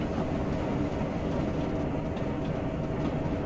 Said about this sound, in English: I'm driving a new train that I've downloaded from Railworks America,